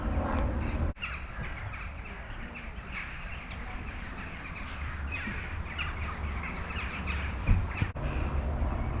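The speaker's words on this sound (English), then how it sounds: "The sound of a helicopter and the birds, it adds to the unique atmosphere here." Crows caw and squawk repeatedly over a steady low rumble of a distant helicopter in Sarajevo.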